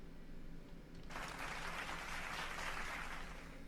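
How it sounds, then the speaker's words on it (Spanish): Applause breaks out abruptly after a quiet start and holds as a steady wash of clapping to the end, fairly faint and slightly distant over a low background hum. "Así que aplausos a este señor tan talentoso."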